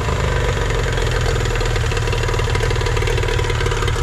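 A Nissan/Tohatsu 18hp outboard motor idles steadily and loudly up close, a continuous even engine drone with a rapid mechanical pulse and no hesitation throughout.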